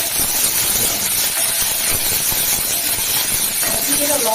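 Carrot, cauliflower, capsicum and beans fry in a pan with curry leaves for egg fried rice, making a steady, loud sizzling hiss throughout.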